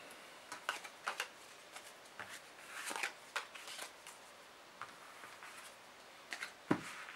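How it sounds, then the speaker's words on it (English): A deck of playing cards is shuffled during board game setup, producing a run of quiet riffling bursts and soft flutters with brief pauses between them. No one talks. "You're going to shuffle those up real nice and good."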